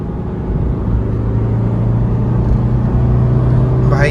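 A Kia Seltos and a Honda WR-V run a drag race, heard as a steady, loud engine drone and rumble that builds slightly, with a faint rising whine near the end.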